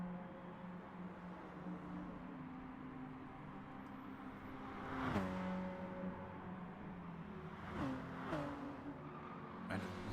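A little Citroen hot hatch races flat out in Gran Turismo Sport, its engine droning steadily at high revs. The pitch drops sharply twice under braking or gear changes, and the tires scrub faintly through the corners.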